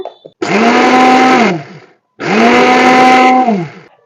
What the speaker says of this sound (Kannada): ಇದನ್ನ ಮಿಕ್ಸಿ ಮಾಡ್ಕೊಂಡ್ರಿ ಇವಾಗ